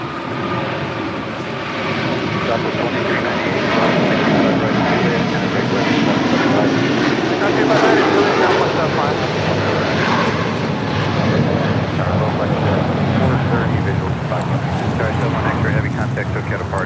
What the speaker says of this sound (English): Oh, I got the Suparna 747 touching down hard.